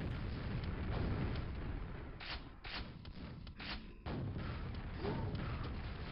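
Rocket explosions in Quake, a dense barrage of low booming blasts and thuds, loud and continuous with a few sharper bursts in the middle.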